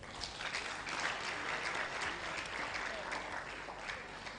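Sustained audience applause fills a hall at a medical laboratory science induction ceremony, a steady wash of many hands clapping at even loudness throughout, with no clear talk over it.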